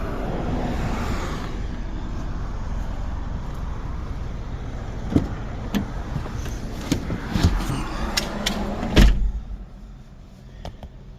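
A Chevy Cobalt SS, freshly fitted with a replacement engine and showing about 118,500 miles, sets off on its first drive: a steady engine and road rumble, then a series of clunks and knocks near the end.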